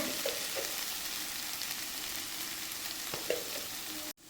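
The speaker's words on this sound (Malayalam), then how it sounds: "നല്ലോണം സവാള വഴഞ്ഞിട്ടുണ്ട് ഒരു ബ്രൗൺ കളറായിട്ടുണ്ട് ഞാൻ ഇതിലേക്ക് പൊടികളൊക്കെ ചേർത്ത് കൊടുക്കുകയാണ്" Spice powders go into browned onions frying in oil for a Kerala-style beef roast, a steady close hiss of sizzling with faint stirring scrapes and no talk.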